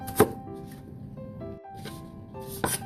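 Knife chopping onion, garlic and ginger on a board, a few sharp close taps scattered over a short stretch with a steady low background hum and faint clinks.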